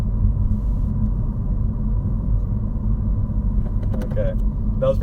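A Honda Civic Si coupe engine pulls hard at around 50 mph, a steady low droning rumble filling the cabin throughout, with a brief voice cutting in near the end.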